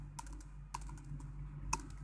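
Keys on a computer keyboard are struck while code is typed, a few soft, sparse clicks spaced irregularly over a quiet background hum.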